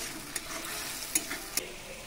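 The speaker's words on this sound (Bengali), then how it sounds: "মশলা খুব ভালো করে কষিয়ে নেব" Spice paste with salt and turmeric sautéing in a pan: a quiet steady sizzle with a few soft scraping stirs and light ticks, close and alone.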